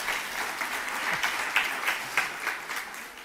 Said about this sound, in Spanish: ¿Podéis aplaudirla